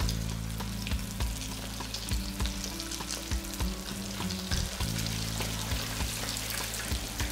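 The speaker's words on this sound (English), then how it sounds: "carefully drop the florets into the oil piece by piece" Cauliflower florets frying in hot oil at 180 Celsius, a dense continuous sizzle with rapid bubbling crackles and a few faint clinks, close and steady throughout.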